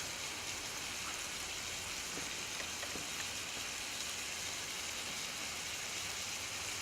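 A pork chop browning in a frying pan gives a steady, even sizzle and crackle throughout, close and moderately loud, with no talking.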